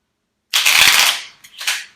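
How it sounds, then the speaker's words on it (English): A deck of cards riffled in a quick shuffle, a bright dense flutter lasting about half a second, then a shorter second riffle, close and alone with no talk. "not judge my shuffling, or I will put all the good cards in position for me to get them"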